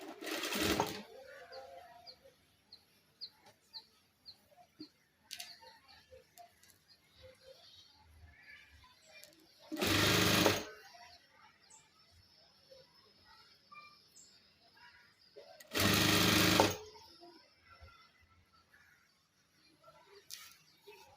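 Sewing machine stitching cloth in short near bursts, two strong runs of about a second each set apart by quiet stretches, with faint bird chirps and small clicks in the background and no talk.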